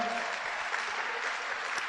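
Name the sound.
audience applauding in church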